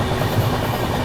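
The Godda New Delhi Humsafar Express passes at speed on a parallel track, giving a loud, continuous roar and rumble of rail traffic with no pause.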